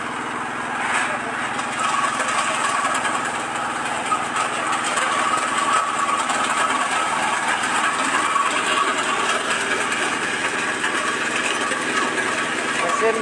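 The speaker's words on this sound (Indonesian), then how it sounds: "Dan kita mesin diesel yang 8 PK." A diesel engine rated at 8 HP drives an areca nut cracking machine, giving a steady, continuous mechanical drone with a rattling high-pitched edge that runs without pause throughout, fairly close and moderately loud.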